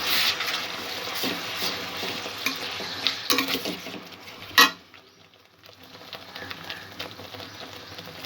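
Spice paste for prawn korma frying and sizzling steadily in a pan, with a spoon stirring and scraping through it and a brief sharp clatter partway, then a quieter bubbling fry.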